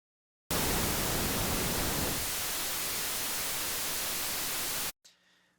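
Noise run through a Zebra2 synth high shelf filter, a loud steady hiss that starts abruptly, shifts in tone partway as the lows thin out, then cuts off sharply.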